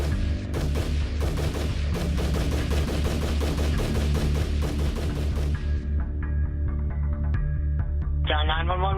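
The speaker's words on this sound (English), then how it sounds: "154 rounds from a Bushmaster's semi-automatic rifle" Rapid gunfire from a Bushmaster semi-automatic rifle: a loud, dense string of sharp shots for about five seconds, then giving way to sustained droning tones and a rising whine.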